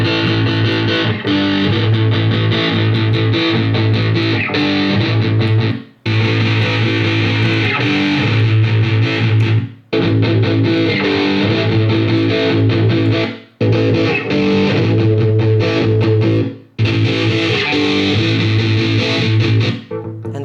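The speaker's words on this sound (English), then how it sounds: "this whole amp is, you know, one big distortion" A heavily distorted electric guitar plays loud, saturated chords through an amp, with a few brief breaks between phrases.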